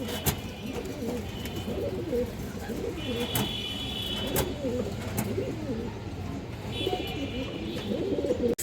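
Pigeons on a farm, including silver pigeons, coo repeatedly and softly close by in overlapping rounds, with a few brief chirps mixed in.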